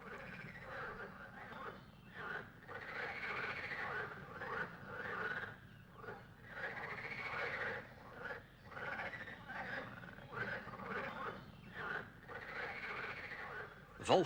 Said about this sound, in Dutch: kwakende groene kikkers trekken zijn aandacht.